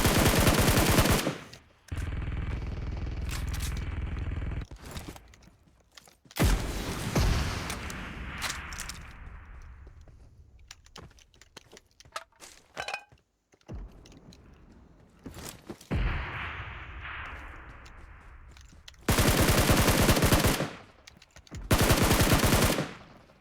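Loud bursts of automatic gunfire in PUBG Mobile, several dense volleys separated by gaps, with scattered single shots and quieter stretches between them.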